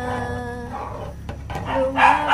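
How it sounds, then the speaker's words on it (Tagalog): A noisy pet dog in a home kitchen gives a few loud, close barks and yelps with whining tones, mixed with household clatter. "Ang ingay talaga nung aming aso guys."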